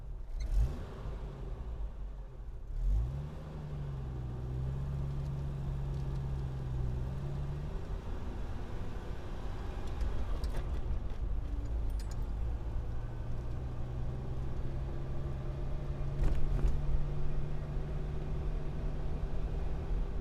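A homemade 4x4 RC car built from PVC pipe drives along, its electric motor giving a steady humming whine that shifts in pitch over a continuous rumbling roll, with no talking.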